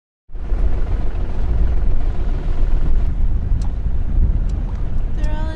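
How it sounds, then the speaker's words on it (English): A sailboat motors through shallow sandy straits off Fraser Island, and a loud, continuous engine drone mixes with rushing wind buffeting the microphone. A few faint high tones sound near the end. "we motor through the shallow parts to safely navigate the shifting sandbanks"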